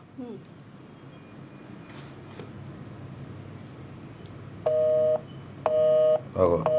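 A faint phone line beeps in repeated electronic tone bursts on an unanswered call, three short pulses near the end, over quiet background noise.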